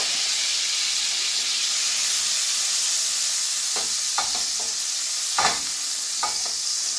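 Egg-soaked bread for French toast sizzles steadily in a hot pan, a close, continuous hiss with a few soft clinks and scrapes from handling near the end.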